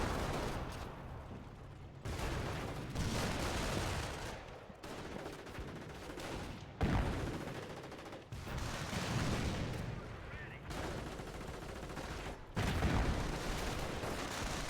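Repeated booming bursts of mortar and gunfire roll through a Company of Heroes battle on the Angoville map, coming in heavy, evenly spaced waves every couple of seconds over continuous battlefield noise.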